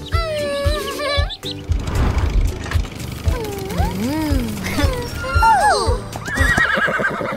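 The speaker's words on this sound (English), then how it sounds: "This is a horse." A cartoon horse neighs and whinnies in several loud, wavering calls, with a few clip-clop hoof beats and short bursts of background music between them.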